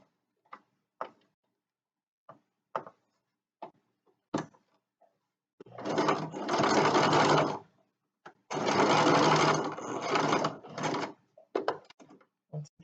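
Sewing machine stitching a lapped zipper: a few quiet clicks and taps, then two long steady bursts of stitching, followed by short stitches and clicks as the needle pivots and backstitches.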